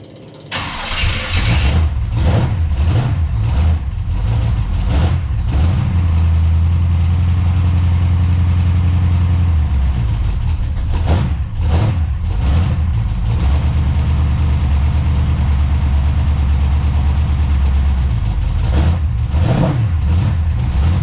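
A car fitted with a B&M 3000 stall converter starts up loud and close, then idles with a deep steady rumble. The exhaust swells repeatedly as the engine revs and accelerates over about twenty seconds.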